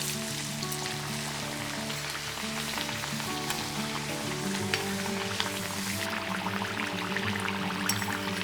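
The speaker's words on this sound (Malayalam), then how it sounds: "ഇതേപോലെ എല്ലാം നമുക്ക് ഫ്രൈ ചെയ്തെടുക്കാം" Maddur vadas, crispy rice flour fritters, frying in hot oil, with a steady dense sizzle and crackle running continuously at close range with no talking.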